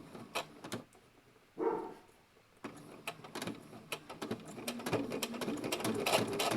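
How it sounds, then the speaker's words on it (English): A sewing machine stitches along the edge of a leather wallet in quiet, uneven bursts of rapid mechanical clatter, with pauses and a few brief knocks between runs and no speech. "So, I'm going to stitch right along this outer edge here."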